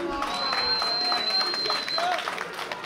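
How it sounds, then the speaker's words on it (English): Wrestling crowd cheering and clapping for a luchador, a dense wash of applause and voices beneath a commentator talking over it, with a high sustained whistle running through. "Crowd showing their support here for Lince Dorado."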